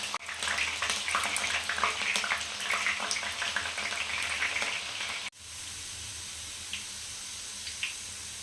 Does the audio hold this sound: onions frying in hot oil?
yes